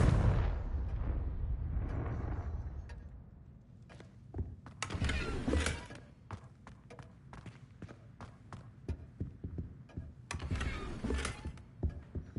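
A Confringo fire spell explodes in the Hogwarts Legacy video game: a loud booming burst, then scattered crackling impacts and further sharp blasts trailing off.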